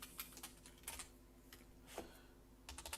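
Quiet, irregular keystrokes on a computer keyboard, tapped in short clusters with gaps between, close up and faint, with no one speaking.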